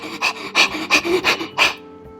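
A voice imitates a dog panting fast, five quick breathy huffs in a steady rhythm, close and fairly loud, trailing off into quiet.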